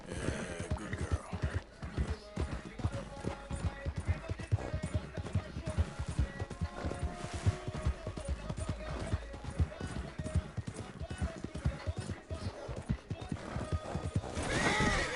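Horse hooves clip-clopping at a gallop in Red Dead Redemption 2, a steady drumming rhythm with occasional whinnies under game music and a player talking over it.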